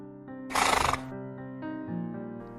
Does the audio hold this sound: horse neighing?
yes